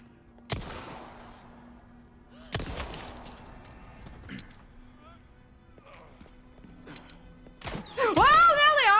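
Gunfire in the Resident Evil 4 Remake video game: three sharp loud shots spaced a couple of seconds apart, with faint game ambience and a burst of high-pitched warbling noise near the end; a voice talks in between.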